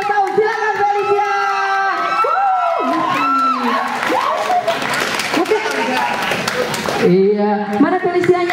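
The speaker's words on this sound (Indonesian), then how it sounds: "Berikan sekarang tepuk tangan yang paling meriah untuk Felicia" A crowd at a 17th birthday party cheers, whoops and claps loudly and continuously, with children's shouts and excited voices mixed into the dense, close din.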